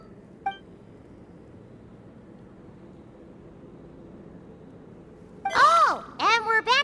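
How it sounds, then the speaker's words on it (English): In Genshin Impact, a brief beep sounds once early on against quiet background hum, then a string of rising and falling electronic beeps and warbles arrives loudly near the end. "Oh, and we're back to beep beep again?"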